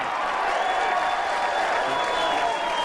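Crowd at a 2003 PBA US Open bowling telecast cheering and applauding steadily throughout, a dense wash of clapping and voices with a faint steady tone above.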